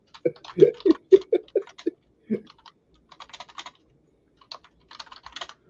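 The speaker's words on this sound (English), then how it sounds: "That's how you know if someone's pretty decent at typing when you hear." Quick bursts of clicking keystrokes on a computer keyboard, a fast run of louder taps followed by lighter, scattered typing.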